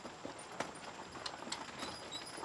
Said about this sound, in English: Did you see some pretty horses pass by today?